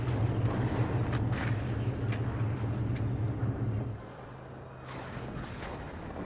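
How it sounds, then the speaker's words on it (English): Artillery fire in the strategy video game WARNO with a Star Wars mod: a heavy low rumble of distant shelling with sharp, scattered impacts that suddenly drops away, followed by quieter rumbling and a few further thuds. "you guys see the artillery's starting to get more intense"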